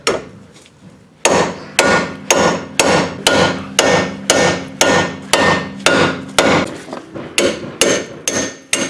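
Heavy metal-on-metal strikes of a hammer on a pickle fork at a ball joint of a 1998-2010 Ford Focus during control arm replacement, about a dozen sharp, loud blows in a steady rhythm, each ringing briefly, with no speech.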